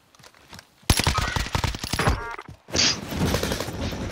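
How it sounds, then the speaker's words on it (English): Video game gunfire with sharp repeated shots and short automatic bursts, starting after a quiet moment and continuing in loud clusters. "These guys are shooting on top of the hill over there."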